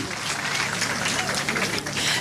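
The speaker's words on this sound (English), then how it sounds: "Give yourself a round of applause." A crowd of graduates at a 2022 Roosevelt High School commencement ceremony claps for themselves, a brief, steady wash of applause from a large gathering.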